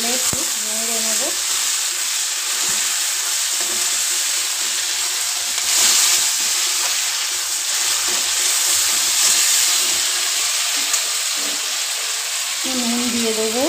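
Chopped capsicum with tomato fries in oil, a loud, even sizzle close by with occasional stirring scrapes, while brief tonal sounds appear at the start and end.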